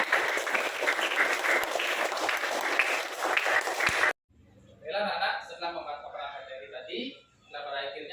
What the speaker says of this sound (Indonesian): kasih tepuk tangan untuk Dira.